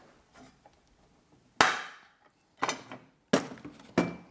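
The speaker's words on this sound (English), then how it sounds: "Put our tool in there, and then squeezing." Sharp metallic snaps ring out close by, one loud crack followed by several more, each a squeeze of a pop rivet tool setting a rivet, with quiet between them.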